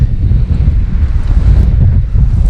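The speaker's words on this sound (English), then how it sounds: "That wind's quite bad now as well." Strong, gusty wind buffets the microphone on the coast at Runswick Bay, a steady low roar with rushing surf mixed in, continuous and loud with no voices.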